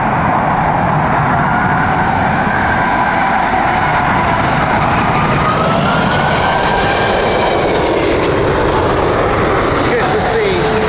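An Emirates airliner landing at Heathrow in a crosswind, a loud, sustained jet roar with a shifting engine whine rising near the end, and a voice talking under the noise.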